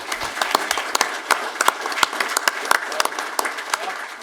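Scattered, uneven claps from a small audience applauding Bob, a veterans coordinator, as he stands up at a gathering; the applause is sparse and moderately close, with individual hand claps standing out.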